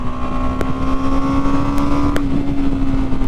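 A 2022 BMW G 310 R entry-level motorcycle engine hums steadily while riding. The pitch shifts slightly with the throttle under constant wind rush, loud and close, with no talking.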